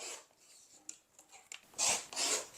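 Quilt fabric pieces for a mystery block being trimmed: soft scraping and rasping cuts, quiet at first, then two louder, longer strokes near the end, heard alone at close range.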